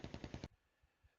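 Mortar fire in the war game Flashpoint Campaigns: a quick string of five sharp, loud reports in under half a second, followed by a few faint, distant low thumps.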